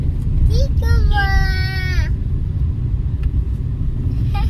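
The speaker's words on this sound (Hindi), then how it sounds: "क्योंकि मुझे बहुत ट्रैफिक है और ड्राइव भी करना और क्यारा मेरे साथ है" A car moving through heavy city traffic, with a steady low engine and road rumble throughout and a rising whine or horn-like tone near the start, loud and close inside the vehicle.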